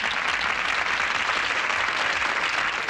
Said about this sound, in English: It takes a second for the applause to start